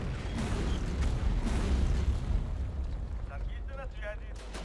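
Artillery rumbling in Hidden Stroke 2, a deep sustained roar of distant blasts and battle noise, fading as voices speak.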